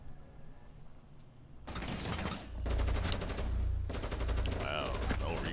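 Automatic gunfire in the tactical shooter Rainbow Six Siege opens with a single sharp shot, then breaks into loud, rapid bursts of full-auto fire close by, pausing briefly before another sustained burst, under a player's voice.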